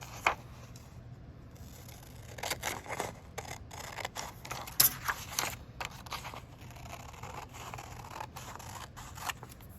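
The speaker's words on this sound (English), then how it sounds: "I'm going to then cut these just like I cut out my first picture." Scissors snipping through paper reference images, close and quiet, with a series of irregular short crisp cuts and light paper rustling against a faint steady hum.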